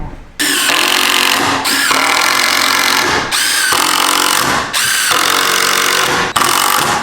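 Power drill driving screws into wood while assembling a cheap DIY desk, several loud sustained bursts of whirring motor with brief pauses between each screw.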